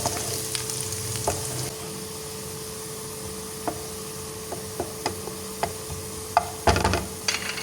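Garlic for a tempering hisses and sizzles in hot ghee with a steady frying crackle, punctuated by occasional spoon taps and a clatter near the end.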